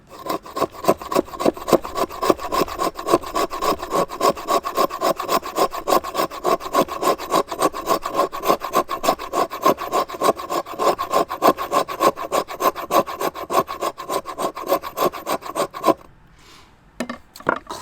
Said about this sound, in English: And now getting into these scraping tasks.